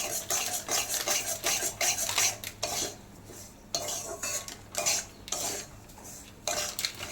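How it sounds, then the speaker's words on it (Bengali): Semolina stirred and fried in hot ghee, with steady scraping of a utensil against the pan in rhythmic bursts and a soft sizzle beneath, close and fairly loud, no voices. "সুজিটা দিয়ে ভালো করে ভাজবো।"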